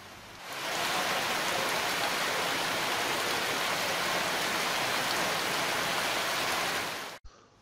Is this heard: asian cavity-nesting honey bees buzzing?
no